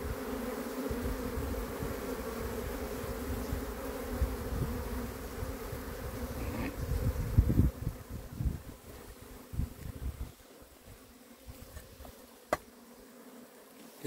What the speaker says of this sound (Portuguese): Essas abelhas aqui agora, ó, são abelhas campeiras que tá chegando do mato